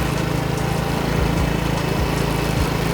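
A 2015 Rakuta 150cc Chinese scooter engine idles steadily close by, a continuous low putter whose pitch sags and dips several times as the revs drop.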